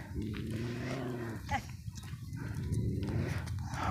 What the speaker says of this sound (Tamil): ஆடு மேய்க்கிறாங்க